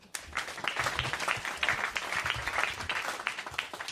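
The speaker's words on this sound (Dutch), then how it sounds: "Applaus." An audience at a stage show gives fairly faint but steady applause for a guest coming on, with a busy, continuous patter of many hands that starts abruptly and carries on evenly.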